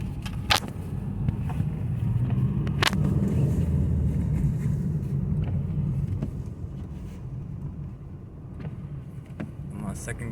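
A 2005 Saab 9-2X Linear 2.5i AWD wagon with a flat-four engine drives in second gear through heavy snow, giving a steady low engine and road rumble inside the cabin, with a few sharp clicks and thumps.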